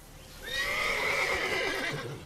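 Roach, a horse in The Witcher 3, gives a single loud, drawn-out whinny lasting over a second, with a faint hoof clop underneath and no talking.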